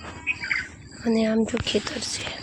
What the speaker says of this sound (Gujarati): જો પક્ષી પણ આંબા ઉપર બોલે છે જબરજસ્ત।